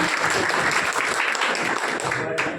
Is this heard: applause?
yes